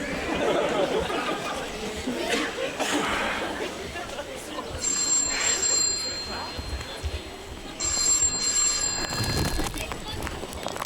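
A telephone rings in two short high-pitched bursts amid a lively, noisy room full of voices and chatter.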